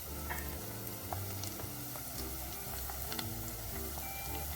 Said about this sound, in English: gonna saute them till they get a little bit golden color